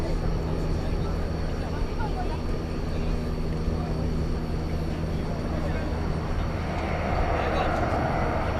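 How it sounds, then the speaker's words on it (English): A plane lifting off at night at DFW Airport, a steady broad jet roar with a low hum that swells slightly toward the end, heard under spoken commentary. "So this plane's going to lift off"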